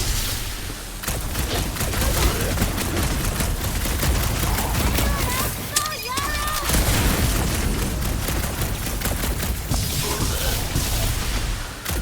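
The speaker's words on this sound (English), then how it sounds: "These guns couldn't save you, hell dork! Nice shot, Rocket" Rapid bursts of gunfire fill a combat scene in the Guardians of the Galaxy video game, loud and near, with booming impacts and character voices talking over the constant shooting.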